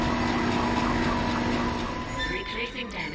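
A tram car in the video game Dead Space is dragged off its track, heard as a loud metallic grinding rumble with high squeals and scraping that fades slightly toward the end, with no talking.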